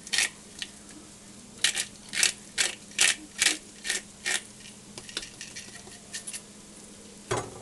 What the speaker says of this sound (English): this is a nutmeg grinder. You probably haven't seen too many of these. It was made in the 70s, and I'm going to give a few quick grinds